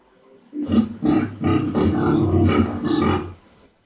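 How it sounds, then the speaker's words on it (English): A pig lets out a rapid series of five or six rough, throaty grunts in close succession, loud and near, with quiet on either side. "Pig."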